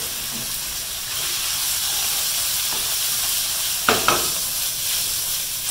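Meat for kimchi-style beef dropped into a hot pan, a steady bright sizzle and hiss that rises at the start and holds, with a couple of sharper crackles and stirring scrapes near the end.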